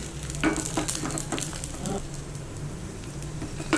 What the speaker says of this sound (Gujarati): તેલ થોડું ગરમ થઈ જાય એટલે એમાં આપણે લસણ નાખી દઈશું